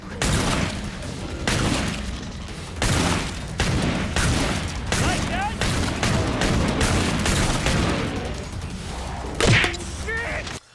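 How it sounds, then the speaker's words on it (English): A pair of Western revolvers fire in Killing Floor 2, dense, loud repeated gunshots with heavy punch, rapid shots piling over one another amid constant in-game chaos and booms. "Just listen to the punch from these things."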